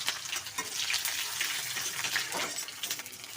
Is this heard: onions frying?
yes